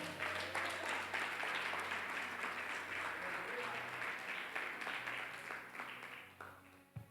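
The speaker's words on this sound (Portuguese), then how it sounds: "Você pode aplaudir a Jesus?" A church congregation applauding during a Sunday service, sustained applause from a crowd heard fairly faintly and at a distance, fading near the end, with voices mixed in.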